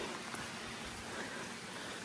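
Rain falling steadily outdoors in North Wales, a constant soft hiss of drops with no pauses, fairly faint and heard alone without voices.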